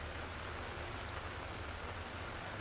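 Heavy monsoon rain pours down steadily in Mumbai, a dense even hiss of drops hitting surfaces with no pauses.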